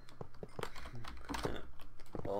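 Rapid, uneven clatter of keys on a computer keyboard during a Minecraft prison server session, close and fairly quiet, with bursts of taps and short pauses.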